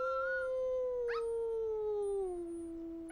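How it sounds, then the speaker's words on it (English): Wolves howl in long, drawn-out tones, two or more voices overlapping and slowly sliding downward, clear and sustained with no talking. "Wolves howl to mark boundaries between rival packs"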